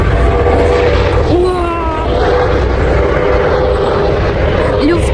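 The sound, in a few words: yellow air ambulance helicopter flying over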